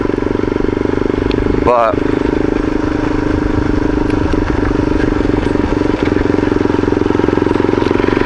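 A motorized vehicle on a hiking trail, a steady droning engine heard beneath ongoing talk, with a brief rising whine partway through.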